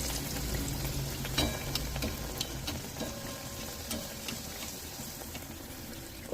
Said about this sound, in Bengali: গরম হয়ে গেছে, একটা একটা করে ভেজে নিচ্ছি।